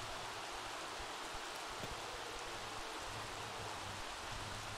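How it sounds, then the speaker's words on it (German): Light autumn rain falling in The Sims 3 game world, a soft, even hiss of drizzle that holds steady at low volume with faint patter and no voices over it. "Das ist ja noch realistisch, dass es auch so ein bisschen regnet."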